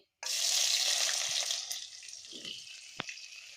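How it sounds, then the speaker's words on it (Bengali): Chopped onion, bay leaves and whole cumin seeds hit hot oil with a sudden loud sizzle that settles into steady frying. A brief clink comes near the end, and no one speaks. "পেঁয়াজটা একটু লাল লাল করে ভেজে নেব"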